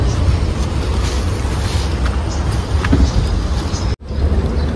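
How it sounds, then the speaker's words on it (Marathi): A wooden fishing boat is shoved into the water, heard as a steady rushing, scraping wash of water and hull close to the microphone, with a brief cut near the end. "बघा मंडळी आम्ही कशी होडी ढकलली पाण्यात, कशी पाण्यात नेली बघा"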